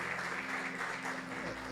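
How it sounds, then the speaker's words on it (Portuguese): A congregation at a celebration worship service applauds briefly, a faint, steady patter of many hands heard from a distance with a low electrical hum underneath. "vamos aplaudir a Deus."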